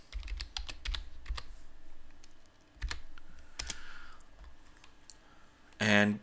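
Typing on a computer keyboard in a Linux terminal, with quick bursts of crisp key clicks, a pause, then more scattered taps, close and clear, ending in a brief louder sound.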